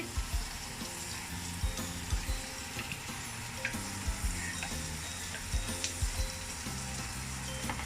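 Onions sizzle in a pan for Japanese curry, a steady dense frying hiss with scattered soft clicks and stirring knocks throughout, close and moderately loud, no talking.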